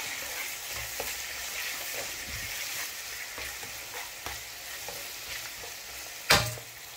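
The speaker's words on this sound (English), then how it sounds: "I'm adding 1 tablespoon crayfish and stir with the onions." Crayfish being stirred into onions frying in oil in a pan, a steady soft sizzle with faint scraping stir strokes throughout and one sharper clatter near the end; no talking.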